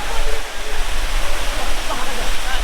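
Dhuppani waterfall in Bangladesh, pouring into a neck-deep bathing pool with a cave beneath it: a loud, unbroken roar of falling water, close and filling the whole stretch.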